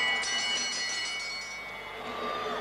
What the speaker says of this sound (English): This time they should hear the bell.